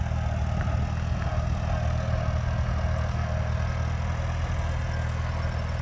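A Cub tractor engine idles steadily, a continuous low, even rumble with a faint high whine on top, close and unbroken throughout.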